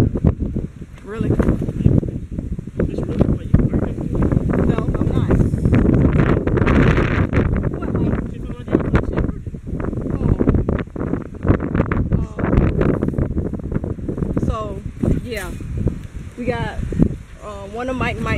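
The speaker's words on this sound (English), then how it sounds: "The wind is real. It blew one of the things off." Strong wind gusts buffet the microphone outdoors in a continuous roaring rush, loud and close throughout, while people talk and exclaim over it.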